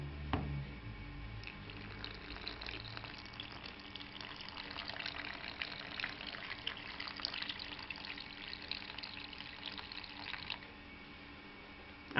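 Warm water pours steadily over sugared yeast in a bowl while making crackling bread, a soft continuous trickle and splash close by that lasts about ten seconds, with no voices.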